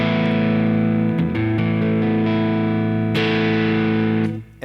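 Electric guitar played through a Blues Breaker-style overdrive pedal, loud sustained distorted chords ringing out one after another with brief changes between them, then fading at the end.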